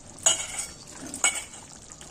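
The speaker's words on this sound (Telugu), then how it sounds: "సిమ్లో పెట్టుకొని ఒక పావు గంట సేపు మసాలా పచ్చివాసన పోయినంత వరకు వేయించుకోవాలి" Masala curry paste fries on a low flame in a pan, with a faint soft sizzle under two sharp metal clinks of a spoon striking the pan about a second apart.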